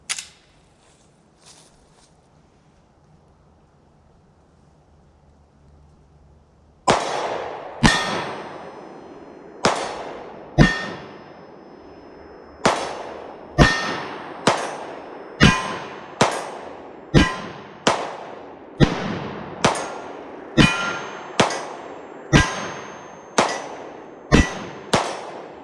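A 9mm pistol fired for the first time, roughly seventeen sharp, loud shots in a steady rhythm at close range after several seconds of near silence, each crack ringing briefly.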